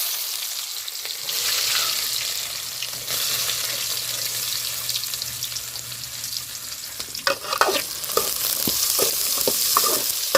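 Cumin seeds and onions hit hot oil in a pan, starting a steady close sizzle that swells, then stirring adds scraping and clinks near the end, with no speech.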